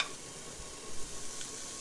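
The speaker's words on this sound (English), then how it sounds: "once the beef starts to sizzle" Soft, steady sizzling of ground beef in a pan, fairly quiet, with a few faint stirring bumps partway through.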